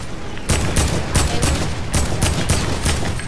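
Rapid sniper rifle shots in a video game, a string of sharp, loud reports in quick succession about every quarter second, with no talk over them.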